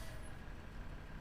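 An air brake on a truck in Farming Simulator 15 gives a short, low, hissing rumble, steady and fairly quiet.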